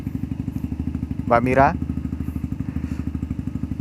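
A 2014 Honda CBR150 motorcycle ridden with friends, its single-cylinder engine thumping in a steady rapid pulse close to the microphone, while a voice briefly speaks over it midway.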